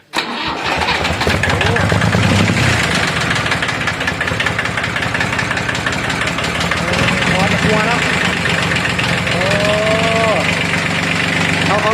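A Kubota L2000 farm tractor runs steadily with a loud, continuous diesel chug after a sharp start, while voices talk over the engine noise.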